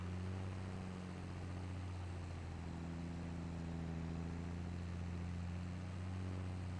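Tractor engine in Farming Simulator 22 hauling a decent-sized trailer, a steady low droning hum with constant harmonic rumble, close and continuous throughout with no talk.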